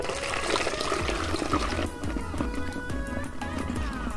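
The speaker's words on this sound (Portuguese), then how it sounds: "aí com a ajuda de um funil, você vai e coloca a sua misturinha dentro de um borrifador" A shampoo and alcohol mixture pours through a funnel into a spray bottle, a steady close liquid gurgle and trickle with faint background music and no speech.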